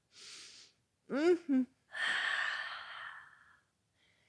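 Slow deep breaths held in a yoga backbend pose: a soft exhale, then two short voiced sighs and a long drawn-out breath that fades away, close and fairly quiet, with no talking.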